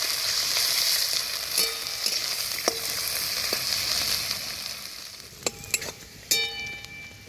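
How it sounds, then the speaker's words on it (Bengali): Chopped onions frying in oil with a tempering of whole cumin, dried chillies and bay leaves for a thin country-chicken curry: a steady close sizzle broken by a few sharp spatula clicks, with no voices. "পেঁয়াজটাও লাল লাল করে একটু ভেজে নেব।"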